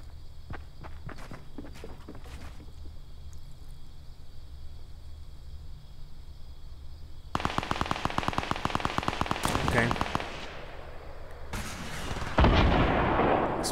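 Explosions and gunfire in the video game Fortnite during a squads match: scattered sharp shots at first, then a dense burst of rapid gunfire followed by heavy blasts, loud and close.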